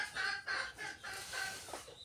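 Chickens cluck softly in short repeated bursts, faint and somewhat distant, with no voices.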